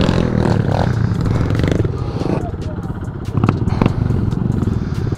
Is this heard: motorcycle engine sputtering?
yes